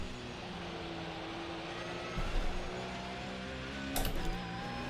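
Sim racing game car engine held at a steady drone through a wet track section, with two brief throttle surges standing out near the middle and end; no talking.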